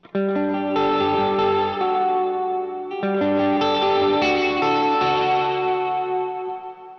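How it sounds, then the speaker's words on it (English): A clean electric guitar plays sustained chords through a tube amplifier with reverb turned to maximum, giving a shimmering, chorus-like wash. Two strummed phrases ring out and slowly decay, with no talk. "So at the max setting, you almost get like a chorusing effect."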